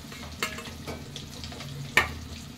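Food frying lightly in oil in a pan for an egg, capsicum and tomato masala curry, a continuous soft sizzle broken by two sharp stirring clacks, with no talk.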